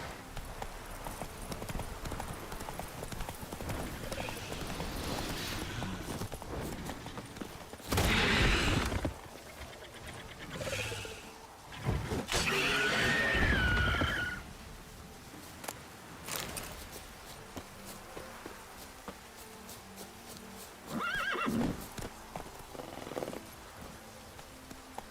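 Roach, the horse in The Witcher 3, moves along in rhythmic clip-clop hoofbeats, with a few louder bursts of whooshing movement and faint ambient game sounds between them. No one speaks.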